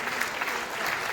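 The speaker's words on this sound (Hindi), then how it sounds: "एक बार जोरदार तालियों से आप वेलकम कीजिए, वो साथी मंच पे आ रहे हैं।" Loud, dense audience applause fills a hall at a business seminar as people are welcomed onto the stage, with steady clapping throughout.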